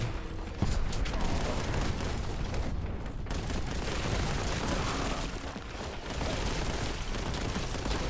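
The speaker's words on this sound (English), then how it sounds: "That's a Quake cannon." A Quake cannon fires in the Warhammer 40K Boltgun video game, a dense, roaring barrage of heavy blasts and rumbling booms that fills the whole span loudly without letup.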